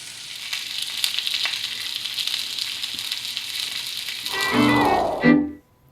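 Chicken breast seasoned with olive oil, salt and pepper sears in a hot pan, giving a steady close sizzle that swells near the end, then a short clattering burst before it cuts off.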